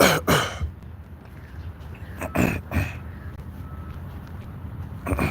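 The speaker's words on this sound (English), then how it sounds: "I'm clearing my throat." Someone clears their throat a few times in short rough bursts, close to the mic, with quiet pauses between.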